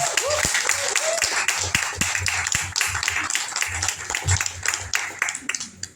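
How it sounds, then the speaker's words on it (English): Audience applause at a women's arts and spoken-word festival event, a steady wash of many hands clapping close by with scattered sharper claps, over a voice or two briefly heard. "Please give another round of applause for Catherine Bowden."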